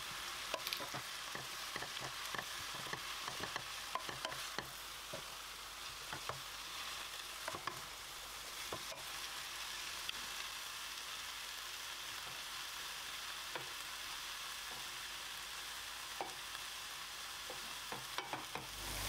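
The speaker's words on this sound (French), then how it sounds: "on va les laisser mijoter à feu doux" A quiet, steady sizzle with soft crackles and pops from a pan of Congolese oxtail sauce with spinach simmering on low heat, no voices.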